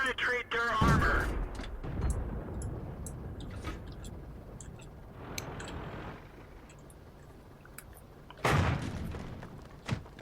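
Tank guns fire in World of Tanks: a loud, sharp report at the start, then a duller boom mid-way and another sharp crack near the end, separated by quieter engine rumble and occasional talk.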